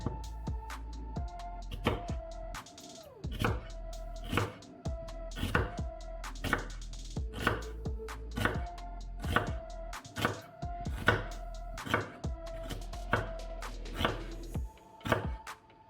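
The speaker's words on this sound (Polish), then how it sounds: "posiekamy cebulkę w kostkę" A knife cuts onion into cubes on a board with a steady run of close, crisp chops, each followed by a brief pause, over a faint background hum.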